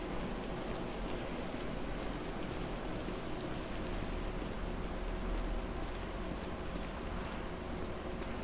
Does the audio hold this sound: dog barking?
no